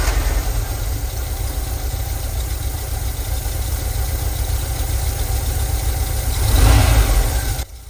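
Rebuilt Volkswagen Vanagon engine running steadily with a loud, low rumbling idle, rising briefly in a short rev near the end before cutting off abruptly; close and continuous, no voices.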